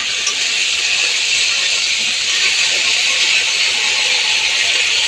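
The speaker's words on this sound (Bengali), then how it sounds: "একটু ভালো করে মশলাটা ভাজা হয়ে যাক।" Spices frying in a pan with salt, giving a loud, steady, close hiss of sizzling oil that holds evenly throughout with no talking.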